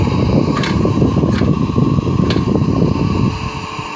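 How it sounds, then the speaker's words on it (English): A blower supplying air to a physics lab air track, giving a loud, steady broadband rushing whoosh with a low hum, holding constant before easing slightly near the end, with a few faint clicks. "turn on the blower and get our air track running"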